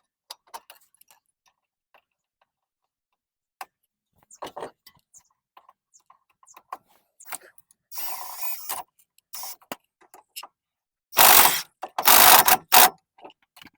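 Nuts and bolts are tightened on the upper strut mount of a Sierra Silverado's front suspension: scattered light metallic clicks and ratcheting, then a few louder bursts of tool noise near the end.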